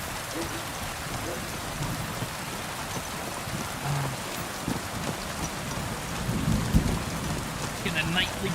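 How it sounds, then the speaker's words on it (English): Video game heavy rain pours down steadily with low rumbling thunder beneath it, a dense constant hiss throughout. "Absolutely pissing down."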